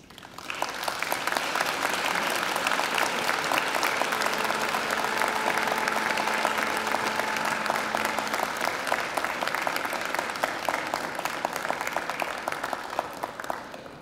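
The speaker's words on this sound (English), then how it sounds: "And now I invite you to give them a mighty round of applause." Graduates at a graduation ceremony applaud their families and friends, a broad, sustained wash of many hands clapping that swells quickly, holds evenly for over ten seconds, then eases off.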